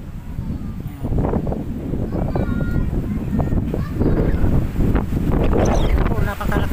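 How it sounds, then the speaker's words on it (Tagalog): Strong wind roars and buffets the microphone in continuous loud gusts at Villa Liza Highland, with a voice talking underneath. "Ayan po, napakalakas ng hangin o."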